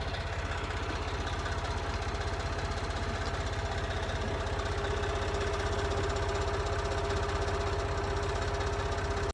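Skid steer working in a field while pushing trees to clear pasture, its diesel engine droning steadily with a rapid knocking chug, constant and moderately distant with no voices.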